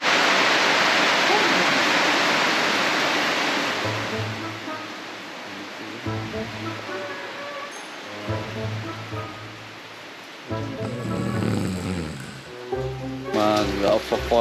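Aniban Waterfalls in Mahagnaw, Eastern Visayas, give off a broad rushing roar that is loudest at the start and then fades under a voice speaking intermittently over the falling water.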